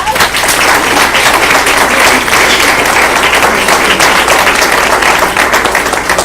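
Loud, steady applause rings out at a school board meeting for the state champion girls track and field team, dense clapping from a crowd that stays even throughout with a low hum underneath.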